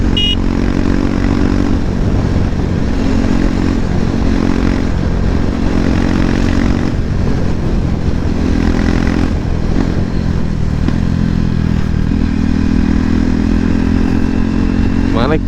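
A KTM RC390 motorcycle running without an exhaust gives a loud, harsh, steady engine drone with a rough clattering edge, close by, with voices partly heard beneath it.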